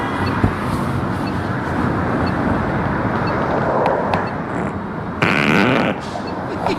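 A long, loud, continuous fart-like rumble plays for several seconds, rough and buzzy throughout, with a sharper blast near the end before it cuts off.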